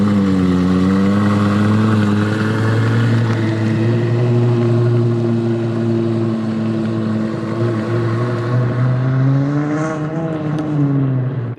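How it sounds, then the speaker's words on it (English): A Lexus LFA engine, a high-revving unit spinning toward 9,000 RPM, sings a loud, steady, harmonic-rich wail that holds for about eleven seconds, then swells and dips slightly near the end. No one speaks over it. "Race cars aspire to sound like a Lexus LFA."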